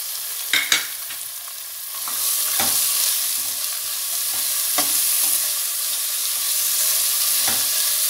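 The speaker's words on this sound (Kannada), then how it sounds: "ಒಂದು ನಿಮಿಷ ಈ ಮೆಂತ್ಯ ಸೊಪ್ಪು ಹಾಗೆ ಎಣ್ಣೆನಲ್ಲಿ ಬಾಡಿಸೋಣ ಇದನ್ನು" Fenugreek leaves and finely chopped carrot sauté in hot oil in a pan, with spatula scrapes at intervals over a steady, close sizzle and no talking.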